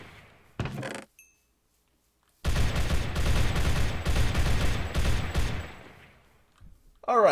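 Sustained automatic gunfire from an AK in a Minecraft gun mod, a long dense burst after a brief earlier volley, loud and close, with a short voice sound at the very end.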